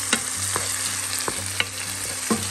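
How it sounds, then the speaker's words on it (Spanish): Garlic, tomato and onion fry in hot oil for shrimp enchiladas, giving a steady close sizzle broken by a few soft stirring knocks. "Guisado el ajo, le vamos a agregar el jitomate y la cebolla y vamos a guisar."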